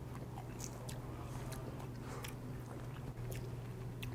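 Fried medium shrimp coated in chili sauce are chewed with crisp, repeated crunches close to the mic over a constant low background hum.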